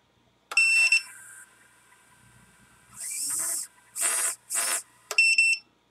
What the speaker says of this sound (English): Why is the beeper beeping every time I arm?